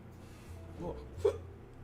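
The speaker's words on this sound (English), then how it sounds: "Hiccups." A single soft hiccup-like catch of breath, quiet and close, with a faint earlier vocal sound and low background hum.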